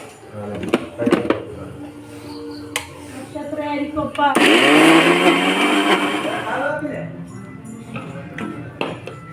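A kitchen blender grinds roasted Amrutham nutrition powder with coconut in one loud whirring burst of about two seconds midway, set between stretches of speech and kitchen clatter.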